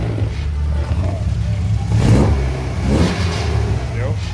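A VW AP 1.8 car engine running and being revved, a low steady engine hum that swells in two throttle blips.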